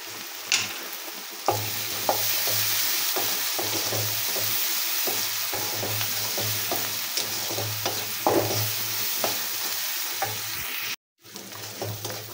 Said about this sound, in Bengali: পেঁয়াজগুলো প্রায় ভাজা ভাজা হচ্ছে